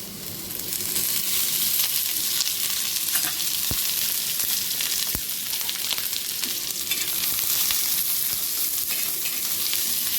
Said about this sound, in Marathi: आपण कांदा व्यवस्थित तांबूस कलर होईपर्यंत भाजून घेऊया